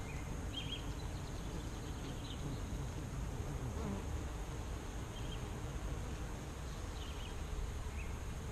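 Honey bees drone in a steady, dense buzz throughout an open-hive inspection, with occasional individual bees flying close past, and no voices.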